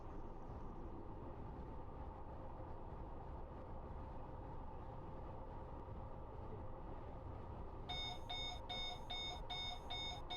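SIFA vigilance alarm in the Train Planet train simulator, a repeated electronic beeping that starts near the end over a steady rumble of the train cab, loud and close, with no talk.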